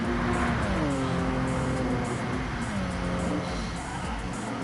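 Touring cars racing at the Red Bull Ring in the GTRC WTCC racing game, a loud, continuous engine drone with rising and falling pitch as cars rev through the Lauda curve.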